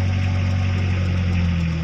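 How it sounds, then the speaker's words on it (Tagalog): A Mitsubishi L300 van engine drones loudly and steadily from inside the cab while driving, a strong low hum with a constant vibrating rumble and no speech. "Malakas ng ugong makina."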